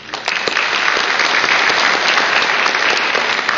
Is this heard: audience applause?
yes